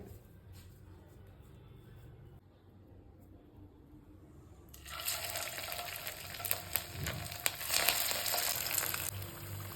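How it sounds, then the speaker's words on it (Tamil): Aval vadai, flattened rice patties dropped into hot oil, break into a loud, crackling sizzle halfway through that stays steady to the end, after a quiet stretch of faint kitchen noise. "இப்போ வந்து வடை மாதிரி தட்டி எண்ணெயில் போட்டு பொரிச்சு எடுத்துக்கிறேன்"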